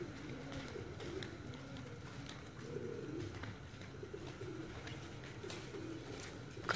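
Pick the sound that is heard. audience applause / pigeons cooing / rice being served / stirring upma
pigeons cooing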